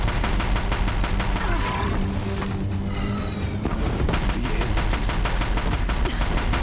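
Deathbringer machines in Horizon Zero Dawn pour out heavy, relentless gunfire, a dense stream of rapid booming shots that pauses briefly midway before resuming at full loudness.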